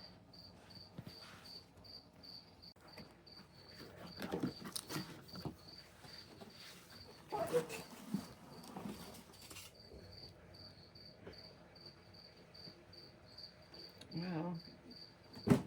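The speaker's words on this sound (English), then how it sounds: "I have a cricket right next to me keeping me company." A single cricket chirps close by in a basement, with a steady, evenly pulsed high trill throughout. Faint rustling of paper and handling noises sit underneath, and a person speaks briefly.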